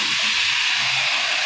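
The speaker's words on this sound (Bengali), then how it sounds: "এবার আমরা কড়াইয়ের ভিতরে লাউ আর আলু দিয়ে দেবো" Bottle gourd and potato pieces sizzle in hot oil in a wok, a loud, steady hiss held close throughout with no pauses.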